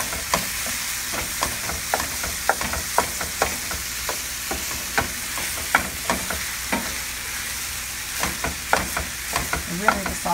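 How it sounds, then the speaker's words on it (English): Garlic sizzles steadily in a pan for homemade spaghetti sauce, with a constant bright frying hiss and frequent sharp clicks and scrapes from stirring throughout. "I hope you guys can hear me over this sizzling."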